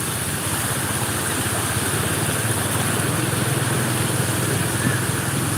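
A steady engine drone runs throughout with dense broadband noise, like a motorbike moving along a busy road, no talking.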